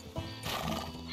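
A horse whinnies in Red Dead Redemption 2, a short, fairly quiet neigh with light hoof clip-clops, heard alone without talk.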